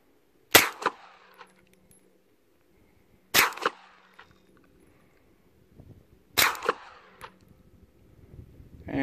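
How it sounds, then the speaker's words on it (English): Three loud, sharp reports from a suppressed 9mm Beretta pistol, spaced about three seconds apart, each followed by a brief metallic clatter and echo, mixing supersonic 124 grain Remington and subsonic rounds through a dry can. "three rounds of Supersonic 124 grain Remington, three rounds of Subsonic Aggia with a dry can"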